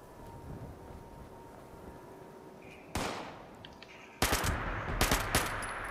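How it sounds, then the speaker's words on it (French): Submachine gun bursts in Fallout 76: a short burst at about three seconds, then louder rapid automatic fire in several quick volleys near the end, over quiet ambient hum. "On va tester notre mitraillette, hein."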